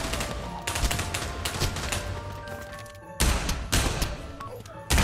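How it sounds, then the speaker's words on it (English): A double barrel shotgun firing in a video game, heavy booming blasts with sustained rumbling battle noise around them, loud and close amid busy gameplay sound. "I should be able to kill you with one shot with this fucking double barrel shotgun"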